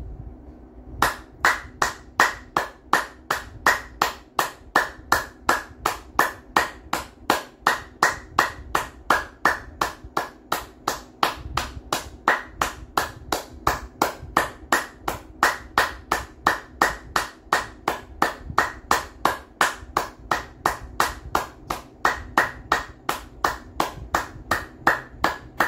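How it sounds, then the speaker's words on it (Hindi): Steady, rhythmic hand clapping performed as a yoga exercise, dozens of sharp even claps in a continuous regular beat lasting throughout, close and fairly loud with no talking. "नेक्स्ट हमारी है ताली।"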